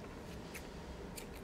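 Kitchen scissors snip faintly twice, close by, while string is handled to truss a whole chicken, against a quiet background hiss.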